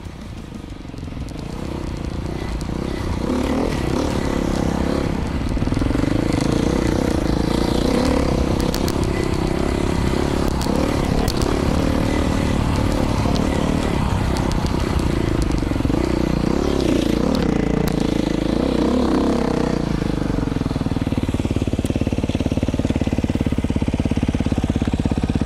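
A Beta 500 dirt bike engine revs and roars while riding off-road near Ridgecrest, building up over the first seconds and then holding loud and close with a rough, crackling tone.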